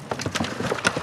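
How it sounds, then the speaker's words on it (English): A compost tumbler is turned to mix its contents, giving a close run of rhythmic hollow knocks and clunks, several evenly spaced thuds in quick succession. "Okay, so I tumble it to mix it,"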